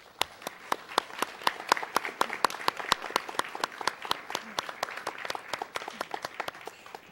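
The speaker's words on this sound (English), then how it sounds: "Please join me in a round of applause." A round of applause at an early college awards ceremony, a small crowd clapping steadily with sharp individual claps standing out, moderately loud and continuous.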